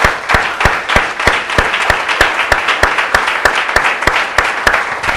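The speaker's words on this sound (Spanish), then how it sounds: "Démosle un aplauso al Señor." A church congregation applauds the Lord during a sermon. The clapping is loud and close, full and sustained, with strong rhythmic claps repeating at an even beat over dense handclapping.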